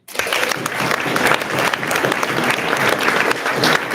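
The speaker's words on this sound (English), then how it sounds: "big round of applause for Standhope in Sun Valley" Crowd of trail runners applauding at a pre-race briefing in Sun Valley, loud, steady clapping from many hands sustained throughout.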